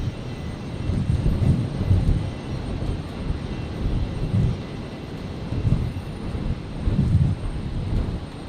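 Qantas retro roo airliner moving at Brisbane Airport on a stormy night, a steady low engine rumble swelling and easing in broad waves, with wind noise in the background.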